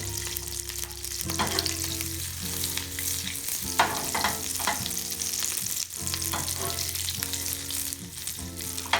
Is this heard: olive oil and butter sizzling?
yes